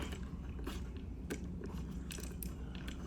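Arm joints of a Transformers Studio Series '86 Grimlock toy being turned, making a quick run of small, faint plastic ratchet clicks, close up against a low background hum.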